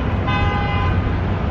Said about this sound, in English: honking, honking, honking.